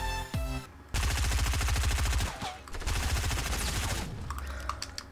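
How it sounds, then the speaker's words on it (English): Rapid automatic fire from a blue SMG in Fortnite, a dense loud stream of bursts with a brief pause between volleys, mixed with short game effects at the start and end. "This blue SMG is absolutely insane."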